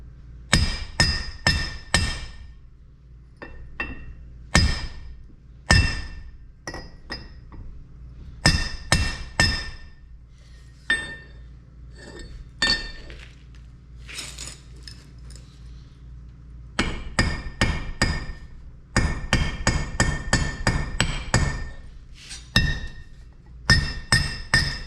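Hammer blows ring out on a fire axe head resting on an anvil during forging, loud and close, in rapid bursts of metallic strikes separated by short pauses.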